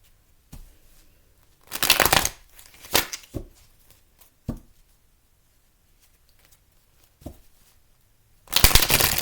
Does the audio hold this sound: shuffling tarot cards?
yes